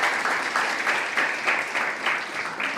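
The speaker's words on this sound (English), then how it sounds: "Let's give them a warm round of an applause." Warm applause from the audience at a high tea book discussion, a moderate steady clapping from a roomful of people with slight swells, lasting a few seconds.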